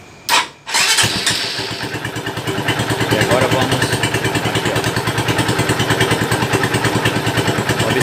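A 2004 Honda CG 150 ES motorcycle's engine cranks with a short thump, catches and settles into a loud, steady close-up idle with an even rapid pulse, while someone speaks briefly at the start.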